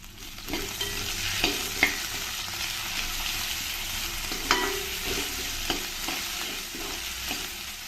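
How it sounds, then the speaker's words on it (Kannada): Onions fry in oil with ginger garlic paste for drumstick pulao, producing a steady close sizzle punctuated by occasional sharp clicks and scrapes of a spoon stirring the pan. "ಫ್ರೈ ಆಗೋವಾಗೇನೆ ಅದಕ್ಕೆ ಸ್ಪೂನ್ ಅಷ್ಟು ಶುಂಠಿ ಬೆಳ್ಳುಳ್ಳಿ ಪೇಸ್ಟ್ ಸೇರಿಸ್ಕೊಳ್ತಾ ಇದ್ದೀನಿ"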